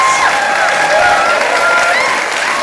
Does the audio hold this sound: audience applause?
yes